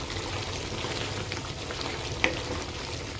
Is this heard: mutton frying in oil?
yes